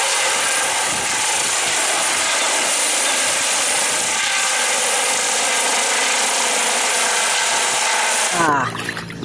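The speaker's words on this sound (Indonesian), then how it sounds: "ini helikopter" A toy helicopter whirs continuously with a dense, buzzing rotor-like drone, loud and steady, cutting off abruptly near the end.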